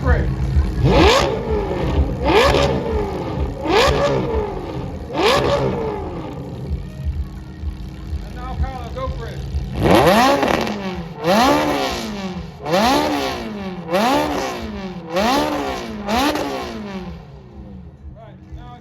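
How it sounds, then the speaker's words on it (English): GT race cars of the GT World Challenge Europe rev their engines at Brands Hatch: four loud, evenly spaced blips, a short lull, then a rapid run of six more sharp, close revs, with a brief voice at the start. "they're going to rev"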